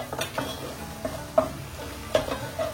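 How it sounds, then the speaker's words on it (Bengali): A spoon scrapes and knocks through a green pea filling seasoned with salt and sugar in a pan for koraishutir kochuri, giving soft irregular stirring taps over a faint, quiet sizzle. "আন্দাজ মতো চিনি দিয়ে ভালো করে আমরা এটাকে আবার নাড়তে থাকবো"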